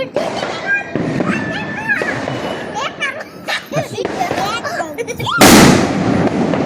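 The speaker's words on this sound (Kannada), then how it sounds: "ಪಟಾಕಿ ಹೊಡಿತಾ ಇದ್ದೀನಿ" Diwali firecrackers burst outdoors during a festive celebration: a run of crackling pops is followed by one loud close blast and lingering crackle, with children's and adults' voices chattering throughout.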